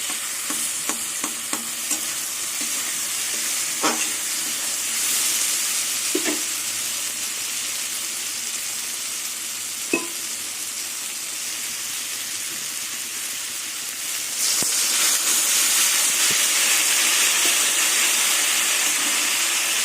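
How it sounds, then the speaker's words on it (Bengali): Water poured into a vegetable chorchori with potatoes frying in released oil in a pan: soft stirring and light sizzling with a few scrapes, then a sudden louder hissing burst that keeps steaming steadily, close and alone. "কষাতে কষাতে তেল ছেড়ে দিয়েছে এবার জল দিয়ে দেবো"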